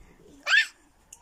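A dog gives one short, sharp bark indoors at home, a single close yip that stands out against near silence.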